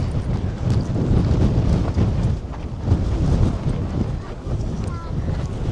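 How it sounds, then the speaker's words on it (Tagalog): Strong wind at the Gaomei Wetlands on the coast roars and buffets the microphone in a loud, continuous rumble, with faint surf or water noise underneath. "Wow, balance ako. Lakas ng hangin."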